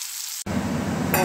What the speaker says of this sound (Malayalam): ഒരു 1/2 സ്പൂൺ പ്രോൺസ് നമ്മൾ എണ്ണയിലിട്ടിട്ടുണ്ട്. നല്ലപോലെ ഒന്ന് വറുത്ത് കോരണം.